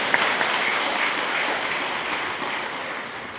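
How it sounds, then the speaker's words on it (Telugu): An audience at a spiritual discourse on the Gopika Geetham claps together, a dense, continuous patter of many hands that fades slightly toward the end, with no speech over it. "ఈ చప్పట్లు కొట్టడం ఏంటో తెలుసా?"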